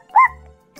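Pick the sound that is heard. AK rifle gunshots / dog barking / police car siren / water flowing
dog barking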